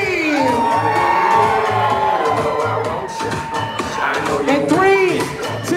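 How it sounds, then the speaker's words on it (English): Guests at a Rhode Island wedding reception scream and cheer loudly together for several seconds over a steady thumping dance beat, with whoops and shouts rising again near the end. "Not somebody, anybody, everybody, scream!"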